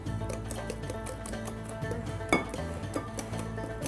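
Flour, sugar and baking powder being stirred together in a bowl for a red grape cake, the utensil clinking and scraping steadily against the bowl with one sharper knock partway through.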